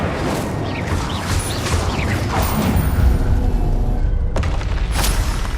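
An Incendio fire spell cast in Hogwarts Legacy, a steady roaring whoosh with booming, crashing bursts layered over constant rumbling game ambience, loud and sustained.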